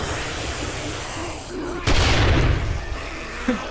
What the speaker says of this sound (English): another grenade